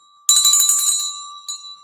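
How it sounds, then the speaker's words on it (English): A hand bell is shaken once in a bright, loud burst of ringing that decays over about a second, followed by a brief second jingle, close and alone with no talk. "Like, see, I have a bell right here."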